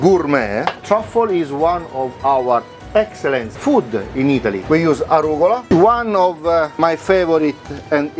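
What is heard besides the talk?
No everyday noise stands out behind the speech.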